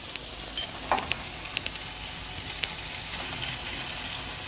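Egg fried rice stir-fried in a pan makes a continuous bright hiss, with scattered light scrapes and taps of a spatula as the rice is tossed, close up and with no speech.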